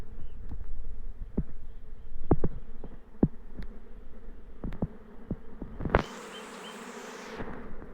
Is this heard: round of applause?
no